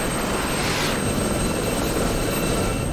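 Lightweight Gazelle helicopter in the DCS flight simulator, giving a steady, dense rotor and turbine roar that stays loud and constant throughout, with no voices.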